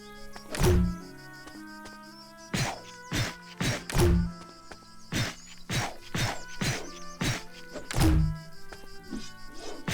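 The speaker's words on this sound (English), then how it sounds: "I love the sound that the cannon makes." Cannon fire in the Kitaria Fables video game: a string of sharp, punchy thunks and whacks at an irregular rhythm, the heavier booming shots standing out over a steady game music bed.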